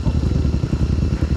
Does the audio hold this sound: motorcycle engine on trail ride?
yes